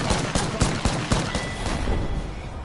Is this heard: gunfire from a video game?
yes